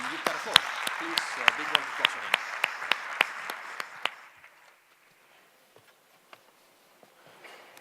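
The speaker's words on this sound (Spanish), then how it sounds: "Así que con todos vosotros, Eric Schulting, por favor, un fuerte aplauso." A tech talk audience applauds as a speaker is introduced, a few loud, sharp claps standing out over softer clapping that fades abruptly after about four seconds, leaving near silence with scattered faint ticks.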